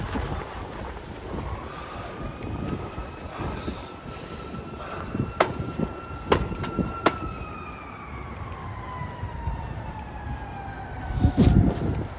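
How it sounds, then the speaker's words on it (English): City emergency vehicle siren wailing at a distance, rising and falling slowly through the scene over outdoor ambience, with a few sharp clanks and louder bumps near the end. "I can't make a video in the city without sirens."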